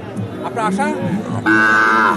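Cows moo loudly and close by at a cattle market, several drawn-out lowing calls with a long sustained moo at the end, over faint background chatter.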